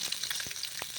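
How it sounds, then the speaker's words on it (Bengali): Eggs frying in hot mustard oil in a pan, a steady close sizzle and crackle with a few brief spatters, no voices. "ডিমটা দিয়ে দিলাম আমি ভেজে নেওয়ার জন্য।"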